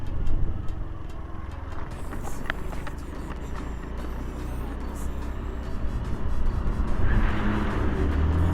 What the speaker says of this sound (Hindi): आवाज़ चेंज हो गया स्कूटी का, सौ कर रहा है।